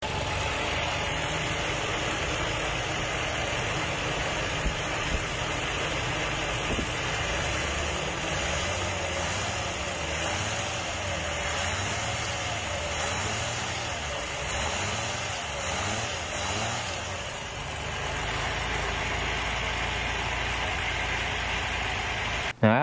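A Ford Bronco II engine idles steadily nearby, a low rhythmic rumble with a slight pulsing lope, running on its own without any talking.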